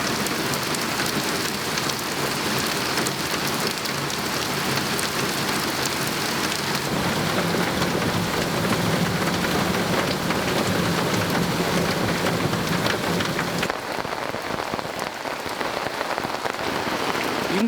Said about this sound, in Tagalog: sa mas malakas na ulan